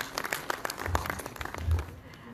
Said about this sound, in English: Let's have a big round of applause to welcome all the dignitaries on the dais